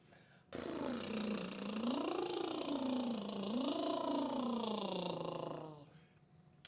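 A sustained lip trill buzzes for about five seconds, its pitch sliding up and down in smooth waves before stopping.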